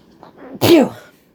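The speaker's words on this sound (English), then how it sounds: "I'm going to sneeze again." A single loud, close sneeze with a sharp burst and breathy tail, preceded by a couple of faint inhaling breaths.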